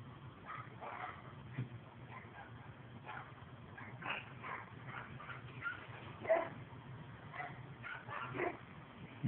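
Several dogs in a neighbor's yard barking and yipping in scattered bursts, distant and faint over a quiet residential background.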